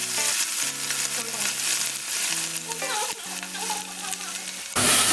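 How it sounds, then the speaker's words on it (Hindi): Broccoli sautés in hot oil with salt, a continuous bright sizzle and crackle from the pan with a louder burst of frying near the end, and soft background music underneath. "तेल गरम हो चुका है, अब मैंने इसमें ब्रोकली डाल दी है।"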